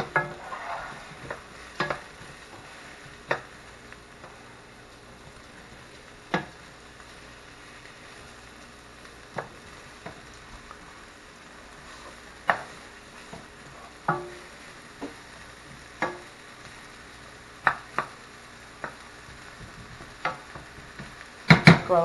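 Mushrooms in large pieces hitting a hot pan for beef stroganoff give a faint steady sizzle, broken by a series of sharp clicks and knocks from utensils against the pan, with no voices.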